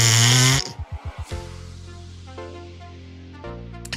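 Human voice imitating the cry of the Pokémon Ledian, starting with a harsh buzzy screech, then a quick run of about six throaty pulses and a long wavering drone, close and loud with a brief rasp near the end.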